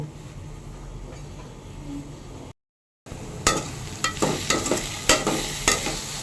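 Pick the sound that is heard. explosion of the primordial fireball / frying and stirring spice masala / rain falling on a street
frying and stirring spice masala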